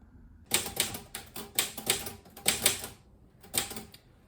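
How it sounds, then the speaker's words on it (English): Typewriter keys clack in quick clusters of strikes separated by short pauses, crisp and close up with nothing else around. "I was just typing something up about ancient Greece."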